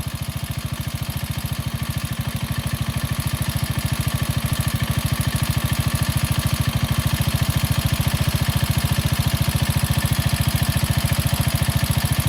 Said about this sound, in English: I'll turn the throttle down, or the idle down just a little bit.